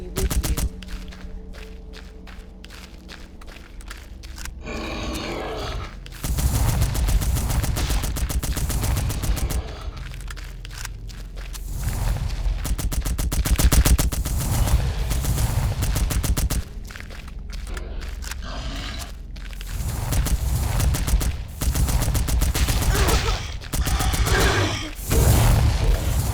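M4 rifle fire in the game Succubus With Guns, rapid bursts of sharp automatic shots in quick succession, loud and close, with short pauses between strings of fire and a brief horse whinny in the mix.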